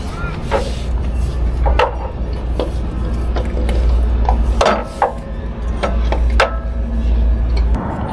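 Nuts and bolts on a Celica 2ZZGE engine are tightened, producing scattered close metallic clicks and ratcheting taps at an irregular pace over a low steady background hum.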